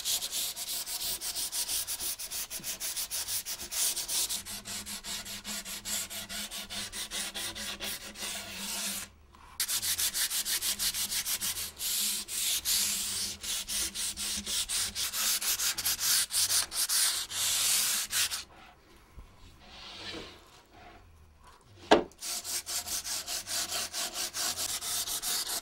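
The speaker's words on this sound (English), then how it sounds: "I'm going to sand with the grain," Vigorous hand sanding with the grain on a wooden table, a rapid back-and-forth scratchy rasp in quick strokes, pausing briefly twice before resuming, close and loud.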